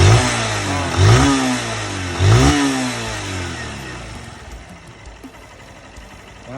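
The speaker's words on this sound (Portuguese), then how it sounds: "Fez um barulho estranho hoje no motor." A 160cc motorcycle engine with an odd mechanical noise, revved in three sharp throttle blips that rise and fall, then settling into a rough, uneven idle, close and loud.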